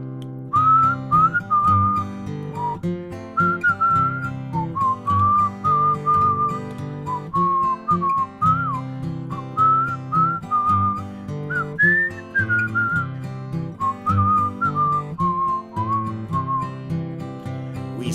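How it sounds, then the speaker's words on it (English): A person whistles a bright, wandering melody alone and up close, phrases rising and falling in short bursts with brief pauses between, steady and clear throughout. "Can you whistle?"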